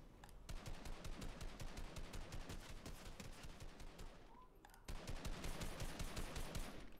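Rapid automatic gunfire from Fortnite Team Rumble fills the clip, bursts rattling almost continuously for seconds, dipping briefly before resuming loud and dense.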